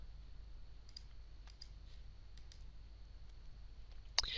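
Computer mouse clicks while working in a query editor program: a few sparse, faint clicks spread irregularly, then one sharper, louder click near the end, over a steady low hum.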